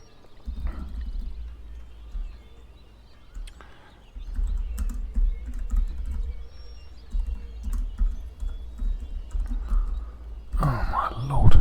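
Computer keyboard typing during a strategy game session, scattered irregular clicks and taps at close range over a low background rumble, with a burst of louder noise near the end.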